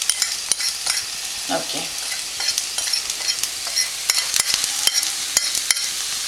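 Okra with red chili powder and other spices being stirred in a hot pan, with steady scraping strokes over a constant sizzle and one brief spoken word early on.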